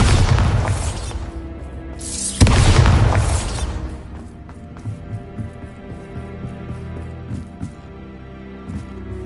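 The Bombarda spell in Hogwarts Legacy sets off a loud, booming blast that rumbles heavily for a couple of seconds, then a second burst hits before the noise fades into a quieter game soundscape with scattered small pops.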